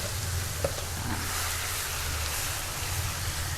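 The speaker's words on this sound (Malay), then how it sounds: "Alright, kita akan goreng." Chicken for fried satay sizzles in hot oil in a kitchen, a continuous hissing crackle at steady loudness with one brief pop, close by and with no talking.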